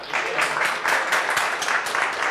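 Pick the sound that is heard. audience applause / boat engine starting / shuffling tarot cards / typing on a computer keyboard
audience applause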